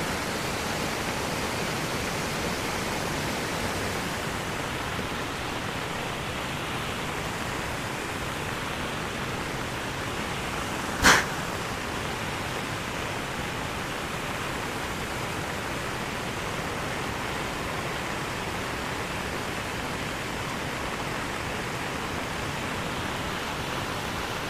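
Water rushes steadily at Silver Waterfall in Sapa during the rainy storm season, a dense, even roar that holds unbroken from start to end. One short sharp click cuts in about halfway through.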